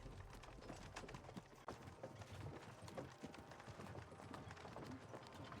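Horse hooves clip-clop at a steady walking rhythm in Kingdom Come: Deliverance II, soft and faint, with the light clatter of tack and ambient outdoor sound around them.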